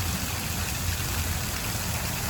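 An outdoor waterfall gives a constant broad rushing hiss, steady and moderately near, with no voices over it.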